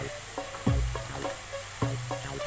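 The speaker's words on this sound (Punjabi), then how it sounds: "ਸਭ ਤੋਂ ਪਹਿਲਾਂ ਅਸੀਂ ਗਾਜਰਾਂ ਪਾਵਾਂਗੇ ਸ਼ਿਮਲਾ ਮਿਰਚਾਂ ਵੀ ਅਸੀਂ ਨਾਲ ਹੀ ਪਾ ਦਿਆਂਗੇ" Carrots and bell peppers fry in a pan for vegetable biryani, giving a steady sizzle broken by a few louder stirring scrapes and clacks, close up and with no voices.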